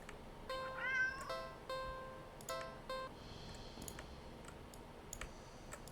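Cat meowing in the video game Do Not Take This Cat Home: a few short, tonal mews in quick succession, clear and close over a soft background hiss, followed by light clicks and a faint steady tone.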